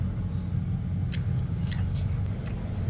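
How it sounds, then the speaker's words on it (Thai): Close, soft chewing and biting of braised duck with dipping sauce, a few moist squishy bites over a low background hum. "เดี๋ยวผมขอชิมก่อนนะครับ"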